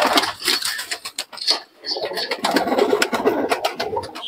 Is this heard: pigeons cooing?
yes